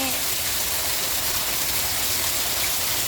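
Heavy dawn rain in Buriram, Thailand, pouring steadily without wind or thunder, a dense continuous hiss of drops across the whole stretch, close and even, with no voices.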